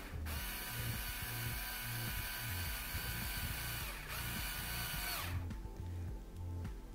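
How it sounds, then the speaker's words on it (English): A power drill drives screws into an arcade control panel during assembly, its motor whirring loudly and steadily in repeated bursts that rise and fall as each screw bites and seats. "So we'll go ahead and screw this all in."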